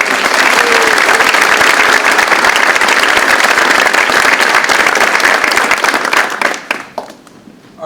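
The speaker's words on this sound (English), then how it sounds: "Once again, a round of applause to all of you." Audience at a Veterans Day ceremony breaks into loud, sustained applause for student essay award winners, a thick wash of clapping that holds steady for several seconds before tapering off sharply near the end.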